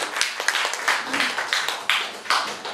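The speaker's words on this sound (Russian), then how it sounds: "Константин Смятских под ваши аплодисменты появляется здесь." Audience applause in a small venue as performer Konstantin Smyatskikh comes on stage, a modest crowd clapping in uneven bursts that swell and fade several times.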